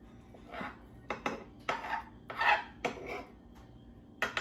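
A knife slicing through soft food on a board, several quiet separate cuts with light scraping, close by.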